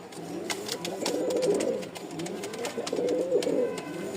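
Racer and Rajshahi flying pigeons at a seller's loft coo close by in two swelling bursts of throaty, rolling calls, with a few faint sharp sounds in the background.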